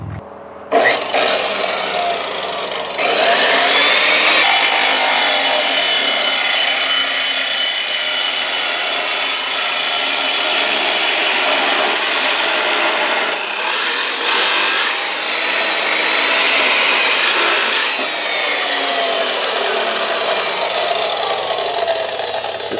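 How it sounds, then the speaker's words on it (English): A steel exhaust tip on a Nissan Titan is cut through with a power tool, giving a loud, continuous abrasive grinding roar that runs almost the whole time with brief dips, and no one speaks. "So now that I've got the tip cut off"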